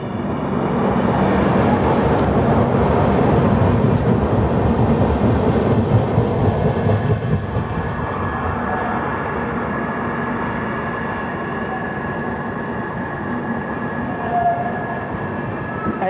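A passenger train rumbles past a station platform on the Mumbai–Ahmedabad line, a loud, continuous low roar and clatter of wheels that eases slightly as it goes by, with no talking.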